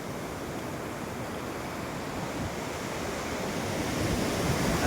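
Water pouring steadily over a village dam (bandhara) in Irlewadi, a broad continuous rushing roar that stays loud and even, swelling slightly toward the end, with no voices.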